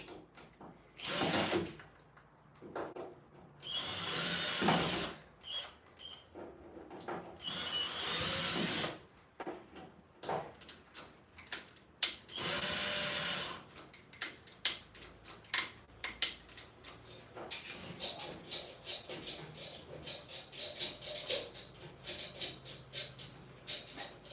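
Power drill driving screws in a budget workshop build, repeated short whirring bursts with ratcheting clicks, close and loud, in an irregular start-stop rhythm with no talk over it.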